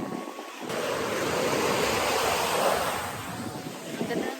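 Sea waves wash steadily onto a beach in Zambales under strong wind gusting across the microphone, a continuous broad roar that swells and eases slightly.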